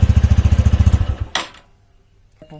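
A motorcycle engine with an unusual Bullet-like note idles with a steady, loud pulsing thump for about a second, then cuts off, leaving near silence and a faint click at the end.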